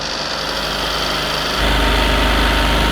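BMW and Porsche car engines held at full throttle with their oil drained, a loud sustained mechanical roar that jumps to a heavier, louder drone about halfway through, with no talking.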